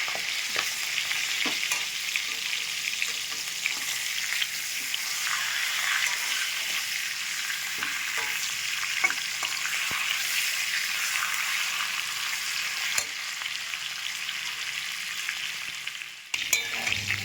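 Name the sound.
fish head frying in hot oil with salt and turmeric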